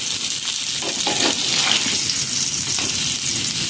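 Bangude (mackerel) coated in rava frying on a tawa in oil over a low flame, a steady close hiss of sizzling with small crackles and pops throughout, no talk.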